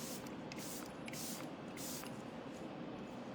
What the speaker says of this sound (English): A little bit of setting spray and let it marinate.